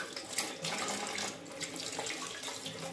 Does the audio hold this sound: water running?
yes